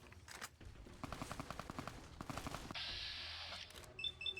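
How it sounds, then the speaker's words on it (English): Gunfire from behind the player in Fallout New Vegas: scattered shots, then a rapid rattling volley of evenly spaced bangs over about two seconds, followed by a steady high whine and faint electronic blips. "we're getting shot at from behind"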